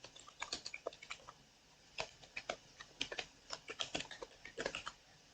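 Rapid, irregular clatter of keys on a computer keyboard as an email address is typed, close and fairly quiet, with short bursts and brief pauses and no talking.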